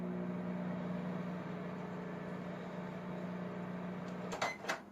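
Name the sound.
microwave oven running to reheat ramen noodles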